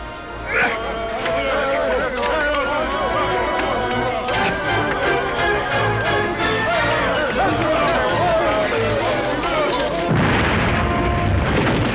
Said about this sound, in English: we'll see how they don't die from this explosion